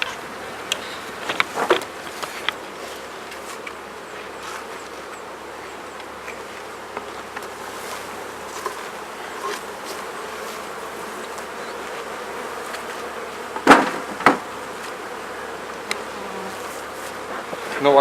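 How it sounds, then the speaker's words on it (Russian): Many honeybees hum in a dense, steady drone close by as they settle on the hive frames, with a few soft knocks and rustles of frames being handled. "Пчелы обсиживают рамочки, из верхнего корпуса они практически ушли"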